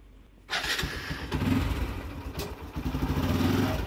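A vehicle engine starts abruptly, then settles into a rough, clattering idle close by, loud and steady with a slight revving swell as the driver is about to leave.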